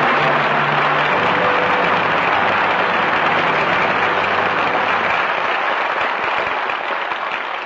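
An audience at a birthday celebration ceremony claps in a dense, continuous wash of applause, and a low hum sounds underneath in the first few seconds.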